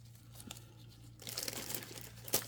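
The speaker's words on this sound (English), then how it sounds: "I'm just trying to take this sticker off here" A sticker being peeled off a resin tray, quiet crinkling and tearing at first, then a louder stretch of crackly rustling that ends in a sharp snap.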